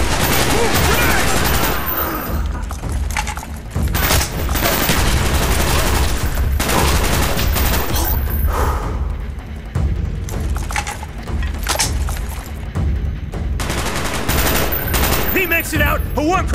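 Sustained automatic gunfire and bursts of shots in Call of Duty Black Ops, loud and dense throughout with short lulls, mixed with shouted voices and combat noise.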